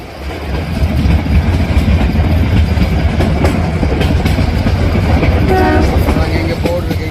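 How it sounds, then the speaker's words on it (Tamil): A safari train rolls through the Gir lion forest, its steady rumble and clickety-clack of wheels loud and close, with a horn-like tone sounding near the end. "கிர் காட்டுக்குள் ஒரு ரயில் சஃபாரி."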